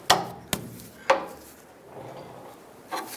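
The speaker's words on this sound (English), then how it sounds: "We'll use a pry bar, see if we can get that inner tie rod to pop free." Pry bar working an inner tie rod loose on a 1992-1996 Ford F-150, three sharp metallic knocks close together early on, then quieter scraping and a final clank.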